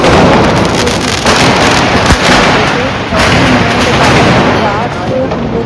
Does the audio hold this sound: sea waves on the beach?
no